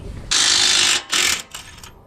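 A ratchet loosens 22 mm bolts on the front suspension of a 2021 Toyota Tacoma, giving three quick close bursts of rapid clicking, the first longest and the last shortest.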